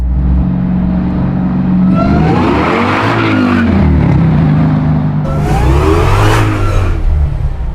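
A 745 hp Chevy C10 with a crate engine and Hellcat clutch roars loudly up close, revving in two rising surges as the tires spin and squeal against the pavement.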